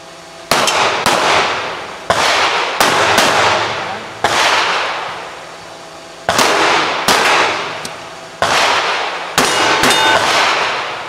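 Gunfire at an indoor shooting centre in Riga: about a dozen loud, sharp shots in irregular succession, each with a reverberant decay off the range walls, with no talk between them.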